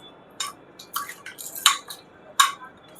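Prawns being stirred and mixed by hand for a capsicum prawn dish, giving a handful of sharp, irregular clinks and wet scrapes against the vessel over a quiet background, with no talking.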